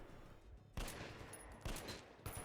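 Incoming gunfire aimed at the player in the shooter Metro Last Light, three muffled bursts about a second apart over a steady background rumble, no talking.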